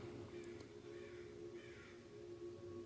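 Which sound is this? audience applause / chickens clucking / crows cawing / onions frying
crows cawing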